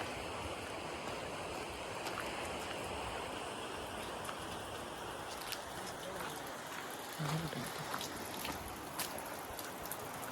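Water runs steadily at a temple, a continuous broadband rush like a trickling stream or tap, fairly faint and even throughout, with occasional small splashes and bumps.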